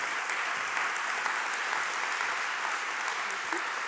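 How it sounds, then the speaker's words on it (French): Steady audience applause fills a welcome ceremony at a thesis-presentation final, dense and continuous throughout with no voices standing out. "merci de bien vouloir applaudir Madame Inguscio"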